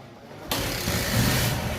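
A Bajaj CT 100 motorcycle in super fresh engine condition starts abruptly and settles into a steady, close idle rumble with a slight rise in revs.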